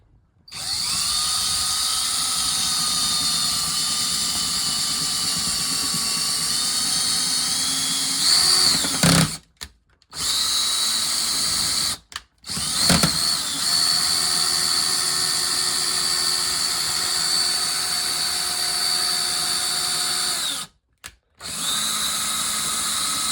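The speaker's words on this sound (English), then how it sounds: "Okay, so now we're ready to drill." A power drill whines loudly and steadily while drilling into a wall for a TV mount, pausing briefly three times before starting up again, with no talking.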